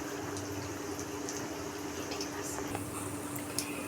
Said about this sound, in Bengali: হালকা গরম করে ডুবো তেলে মিডিয়াম লো আঁচে রেখে আমরা পিঠাগুলো এখন ভেজে নেব